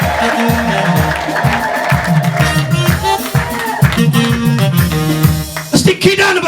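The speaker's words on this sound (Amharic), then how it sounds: "እልልታ ጭብጨባ ለጌታ ለኢየሱስ ክብር" Church congregation clapping and cheering with ululation during a prophetic worship service, a loud, dense crowd roar with rhythmic claps and music throughout, swelling near the end.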